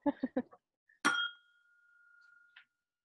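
Glasses clink once in a toast at a whiskey tasting, a bright ringing tap that rings on and fades slowly, with a fainter second clink after it. People speak briefly just before.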